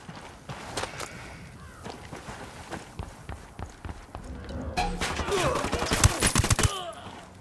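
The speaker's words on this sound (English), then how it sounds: "Opening fire." Gunfire in the tactical shooter Ghost Recon Wildlands: sharp shots and bursts crackle over rustling movement, growing denser and louder toward the end, with a voice briefly audible.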